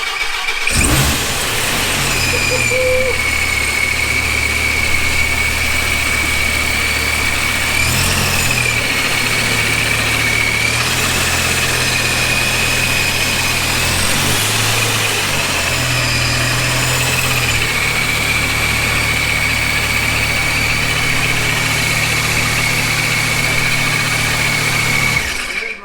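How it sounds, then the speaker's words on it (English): A supercharged Dodge Viper engine cranks and fires, then idles loud and close with a deep rumble, a high supercharger whine and a few small blips in engine speed. "So the Viper turned on, as you guys saw, and it sounds good."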